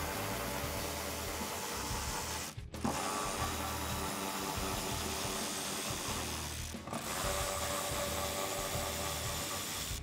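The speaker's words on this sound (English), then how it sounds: "We're gonna remove these 3 8mm screws." Ratchet spinning out 8mm screws from the front mud guard of a 2019-2020 RAM 1500, a continuous loud clicking whir close up that pauses twice briefly, with no talking.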